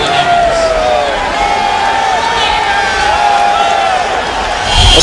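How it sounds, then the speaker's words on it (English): A football stadium crowd in Orlando at an XFL game keeps up a loud, continuous roar with rising cheers and whoops, and a commentator talks over it. "A lot of noise from this crowd here in Orlando."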